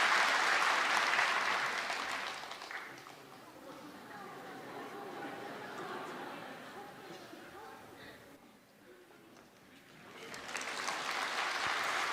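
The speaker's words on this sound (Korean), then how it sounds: "우리 박수로 이 아이를 축복합니다" A church congregation claps together to bless a baby during a Sunday worship service, a broad wash of applause that fades partway through and swells again toward the end, with voices murmuring under it.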